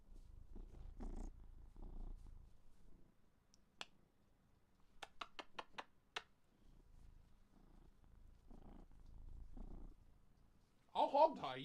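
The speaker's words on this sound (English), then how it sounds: "He purrs and fights at the same time." A cat purrs in low rumbling bursts while being handled and resisting, broken by pauses, sharp clicks and a person talking quietly, with a louder scuffle at the end.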